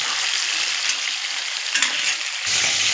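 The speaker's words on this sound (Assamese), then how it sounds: "ইফালে মাছখিনি ফ্ৰাই কৰি লওঁ" Steady crackling sizzle of fish frying in hot oil, loud and close, with a few sharper pops and spits along the way; no talking.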